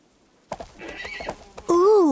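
In the Barbie Dreamhouse stables video game, a brief spoken voice and soft clip-clop sounds give way to a loud, clear horse whinny that swoops up and down at the end.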